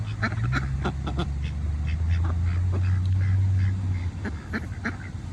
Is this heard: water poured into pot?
no